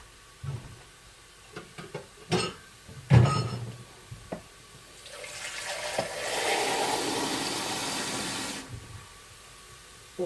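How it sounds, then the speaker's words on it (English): Running tap water fills a cooking pan for a budget batch-cook stew, a steady rushing hiss lasting a few seconds after scattered kitchen clatter and knocks, fairly close. "Okay, I need water."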